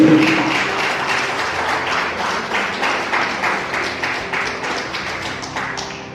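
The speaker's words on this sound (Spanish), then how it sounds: "Denle fuerte las palmas a Jesucristo." A church congregation claps for Jesus Christ, fairly close and loud. The clapping is rhythmic and unison, with regular beats that fade slightly toward the end.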